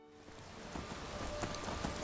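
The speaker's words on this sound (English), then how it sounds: "You will notice it is raining again." Steady rain in the video game Skyrim, a continuous hiss of droplets with faint patter, soft and even across the whole stretch with no voices.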